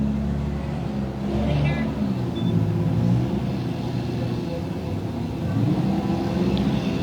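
Enduro race cars rumble and rev around a speedway at varying distances, a continuous engine drone swelling as they pass, while an announcer talks over the racing.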